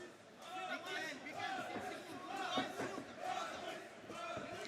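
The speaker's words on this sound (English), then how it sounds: "we can hear the crowd cheering for the favorite, Azizbek." A large crowd at an MFN 10 MMA fight roars and chants continuously at a distance, with overlapping voices and shouts forming a steady wash of cheering.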